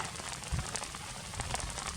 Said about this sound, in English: The beauty of the rain.